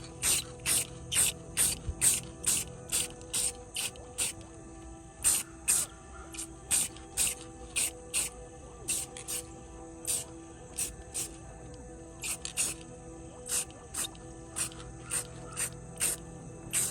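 Short bursts of aerosol spray hiss in a steady rhythm, about two per second, up close over a faint background hum.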